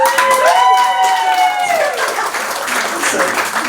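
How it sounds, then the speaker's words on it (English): An audience at a live listening party applauds a guest, loud, close applause and crowd noise blended with raised voices and a drawn-out vocal cheer at the start, easing slightly toward the end. "Can we give a round of applause to him?"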